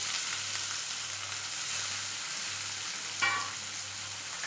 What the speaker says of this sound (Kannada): ಇಷ್ಟನ್ನು ನಾನು ಹಾಕ್ಕೊಂಡು ಹಾಕ್ಕೊಂಡು ಇದನ್ನು ಚೆನ್ನಾಗಿ ಫ್ರೈ ಮಾಡ್ತೀನಿ